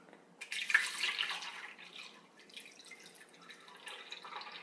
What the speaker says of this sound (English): Pour in some milk